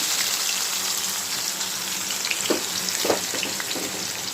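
Chicken with ground ginger, garlic, cumin, onion paste, turmeric and chilli powder set to cook in a pot, giving a steady close sizzle with a couple of brief clinks partway through.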